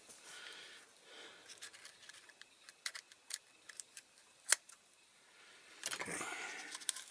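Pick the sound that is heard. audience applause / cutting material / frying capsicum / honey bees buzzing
cutting material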